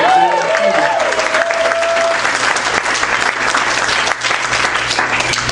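Loud, sustained applause from a comedy club audience, a dense wash of clapping and crowd noise filling the whole stretch without letting up.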